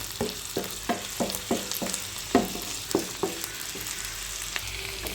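Ivy gourd stir-fry (Kerala kovakka mezhukkupuratti) scraped and stirred in a pan, with about ten rhythmic, close spatula strokes over a steady low sizzle of frying.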